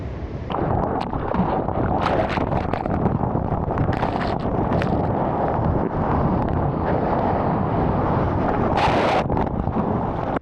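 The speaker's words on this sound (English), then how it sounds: "the wind got stronger too, which made me miss a lot of really good waves" Strong wind at the sea on a surfing trip in France buffets the microphone with a loud, continuous roar that rises in a few louder gusts, and no voices are heard.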